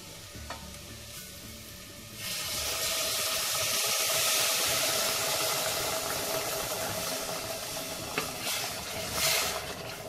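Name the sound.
pouring hot water onto potatoes in a pot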